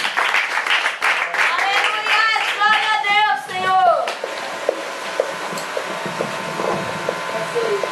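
A church congregation claps in praise, with a loud, dense burst of clapping at the start mixed with sung or spoken voices. It then thins into sparser claps over a steady background hum.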